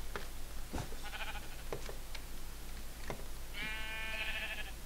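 A sheep in the Minecraft video game bleats near the end as a loud, wavering cry, following a few short sharp game clicks and thuds over a steady low background hum.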